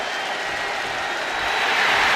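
A wrestling arena crowd in a WWE video game roars with a continuous, loud, even wash of cheering and applause that swells slightly toward the end.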